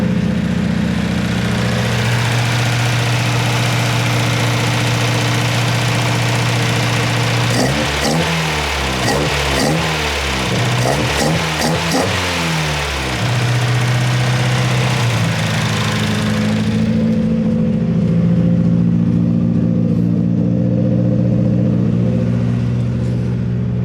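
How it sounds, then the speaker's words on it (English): A 1994 Mazda Miata's built, cammed 1.9L engine with Jenvey individual throttle bodies runs loudly up close, idling with a rough, lumpy rhythm and a brief burst of revving in the middle before settling back. "I got the car started and running"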